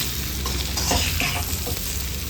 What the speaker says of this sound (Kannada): ಚೆಂದ ಒಂದು 5 ನಿಮಿಷ ಫ್ರೈ ಮಾಡ್ಕೊಳ್ಳೋಣ. ಈ ರೀತಿಯಲ್ಲಿ ಕ್ಯಾಪ್ಸಿಕಮ್ ಮತ್ತು ಈರುಳ್ಳಿ ಫ್ರೈ ಆಗುವಾಗ